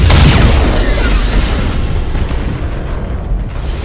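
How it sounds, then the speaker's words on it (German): A nova cannon blast in the space game Battlefleet Gothic Armada: a loud deep boom that rolls out into a long rumbling decay with a faint sweeping whoosh fading away. "Nova-Kanone ist wieder fertig."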